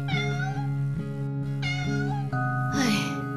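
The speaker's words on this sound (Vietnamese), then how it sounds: "Ồ, một con mèo hoang Mày đang bị thương à" An injured stray cat meows repeatedly in drawn-out, plaintive cries, close and clear, several distinct calls in a few seconds with a brief higher wail near the end.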